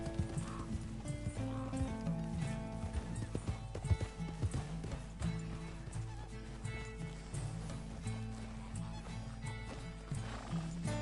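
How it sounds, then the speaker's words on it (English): Horse hooves clatter over rocks in the video game Red Dead Redemption 2, with irregular clip-clop steps and a brief whinny over steady game music and ambience. "Come on, horse, what are you doing jumping on the rocks like that?"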